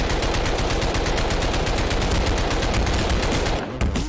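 A gun fires in the sandbox game Garry's Mod in a dense, continuous rapid-fire stream of shots, loud and steady for several seconds before stopping abruptly near the end.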